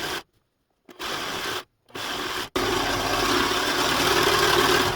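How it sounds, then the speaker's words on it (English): Serger stitching straight across quilted fabric coaster strips, a loud steady machine whir starting in two short bursts with pauses, then running continuously near and alone. "I should be able just to take these strips and serge straight across there and have my coaster completed."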